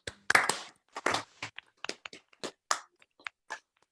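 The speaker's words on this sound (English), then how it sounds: "Please unmute yourself and join me for a round of applause to welcome Professor Jane Dacre." Scattered applause from a small online audience welcoming a speaker to a medical lecture, a few separate bursts of clapping that come through unevenly, as if from several unmuted microphones, then thin out into sparse single claps.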